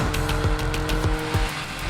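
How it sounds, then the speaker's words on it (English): A sports car engine roars at high revs, loud and close, with a few quick thuds and pulses suggesting gear shifts. "I can change a gear down, rev it all the way up"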